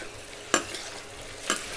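Chicken coated with turmeric sautés in a hot pan under a continuous sizzle, and a utensil stirs it with two distinct scraping strokes about a second apart. The sound is close and there is no talking.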